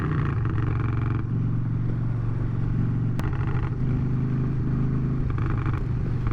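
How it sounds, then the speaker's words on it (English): A Harley-Davidson motorcycle being ridden makes a continuous low engine rumble with steady drone and wind, close and moderately loud, with a brief click partway through. "Number one priority, Harley Davidson riding."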